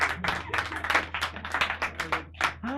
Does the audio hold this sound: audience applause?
yes